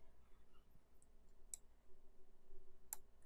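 Two soft, distinct computer mouse clicks, about a second and a half apart, stand out against a faint, quiet background hum.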